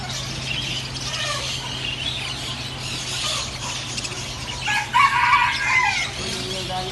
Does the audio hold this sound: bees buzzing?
no